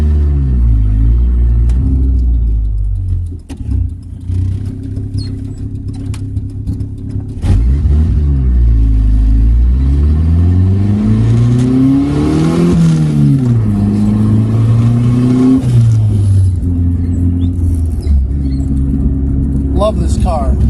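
A tuned Honda Civic running a low-boost setup rumbles loudly up close, its engine pitch climbing and falling through repeated revs before settling into a steady drone.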